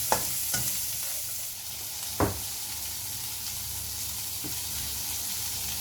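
Two onions fry in a pan for restaurant-style chilli chicken, giving a steady close sizzle broken by a few sharp scraping knocks of a spoon stirring.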